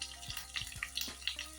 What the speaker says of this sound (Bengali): দিয়ে আমি আলুটা একটু ভাজা করে নিই।